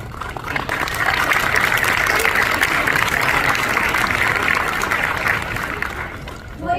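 A packed convention panel audience at San Diego Comic-Con 2023 applauds, a broad, sustained roar of clapping that swells and holds for several seconds, then thins out near the end.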